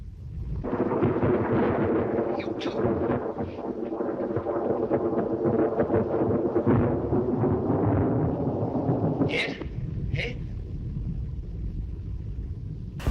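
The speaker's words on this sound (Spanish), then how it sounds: "Este efecto se conoce como Castle Thunder, o el trueno del castillo" Castle Thunder, the classic film thunder sound effect first used in Frankenstein (1931), rolls as a long, loud, continuous rumble with a couple of sharper cracks near the end.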